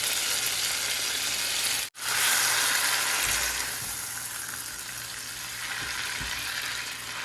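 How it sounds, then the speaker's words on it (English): Peppers and Rotel hit melted butter in a pan with a loud, steady sizzle and frying hiss. A brief dropout comes early, then the sizzle settles slightly quieter with a few stirring clunks. "All right, butter has melted. I'm going to add in peppers. Add in the Rotel."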